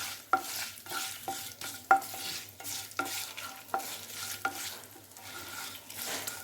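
Tempering spices sizzle softly in oil for mango chutney while a ladle repeatedly scrapes and taps the pan in an uneven rhythm, close up, with no talking.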